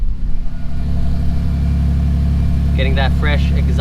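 A Lexus IS300 with a newly fitted GReddy Supreme SP catback exhaust idles with a deep, steady, loud rumble, close by, while a person talks briefly near the end.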